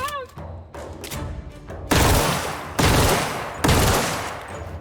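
A rapid-firing gun in the video game The Outer Worlds, three loud sustained bursts of automatic fire following some quieter clatter and a short voice sound.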